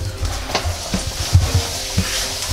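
Shredded cabbage hitting a hot frying pan for Chinese fried noodles, giving a steady close sizzle broken by a few sharp stirring scrapes and clatters, with no talking.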